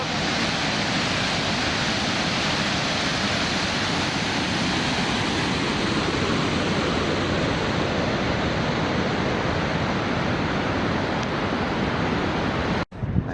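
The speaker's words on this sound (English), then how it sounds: "Another look at the spillway here at the top of the dam. Water comes out." Water pours steadily from the dam spillway at Enid Lake, a loud, unbroken rushing roar with no pauses and a brief knock near the end.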